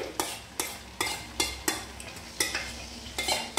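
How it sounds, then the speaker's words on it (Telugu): Tamarind pulp for a drumstick pickle sizzles in hot oil while a metal spoon scrapes and stirs the pan in a steady rhythm of sharp, close strokes, about two per second. "ఈ గుజ్జు అంతా కూడా నూనెలోకి వేసి కొంచెం ఫ్రై చేసుకుందామండి"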